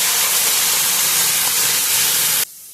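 Cooked lentils and Malabar spinach hit a hot pan, giving a loud, steady close-up sizzle of bright hissing that runs unbroken and then stops abruptly.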